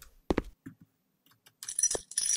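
A key picked up in the horror video game KENGOHAZARD, a few sharp metallic clinks and jangles in short bursts followed by a brighter rattling chime, close and clear, no talking.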